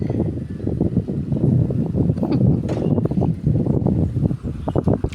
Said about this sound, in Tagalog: Mahangin naman, mahangin. mahangin.